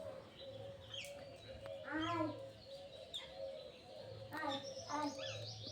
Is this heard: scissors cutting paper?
no